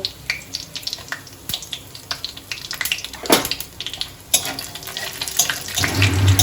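Cumin, whole garam masala and dried chillies sizzling in hot oil, an uneven close crackle and hiss in bursts that swells loudly in the second half.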